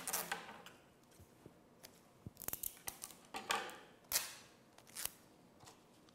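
A piece of adhesive tape is cut with scissors, giving a series of crisp, sharp snips and clicks in irregular bursts, close and quiet with no talking.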